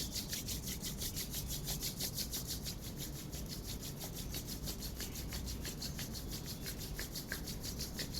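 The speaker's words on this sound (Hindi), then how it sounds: "दोनों हाथों को रब करेंगे।" Palms rubbed briskly together in a quick, even back-and-forth rhythm during a yoga session, a soft dry swishing that repeats steadily throughout, close and fairly quiet with no talking.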